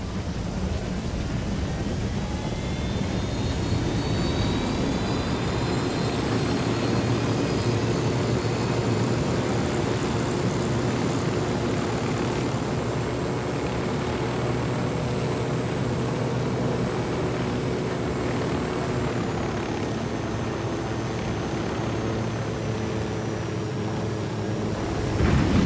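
An aircraft in the video game Tom Clancy's Ghost Recon Wildlands drones steadily, a loud constant engine roar with a rising whine running unbroken throughout, no talking.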